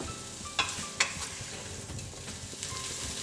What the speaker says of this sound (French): j'ajoute un peu d'eau pour pas que les épices brûlent.